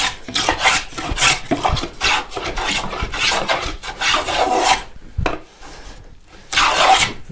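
A No. 5 hand plane skewed at an angle smooths wood on the bottom of a box in repeated rasping strokes, loud and close, with a brief pause near the end before a final pass.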